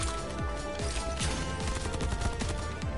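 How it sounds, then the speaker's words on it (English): Rapid, dense bursts of gunfire crackle continuously in the video game Sword Art Online: Fatal Bullet, with repeated sharp shots and descending swooshes, loud and close like a busy shootout. "I am basically just dodging gunfire like crazy."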